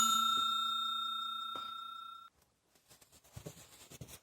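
A bright chiming notification bell rings out and slowly decays, followed by a brief burst of softer clicks and rustles.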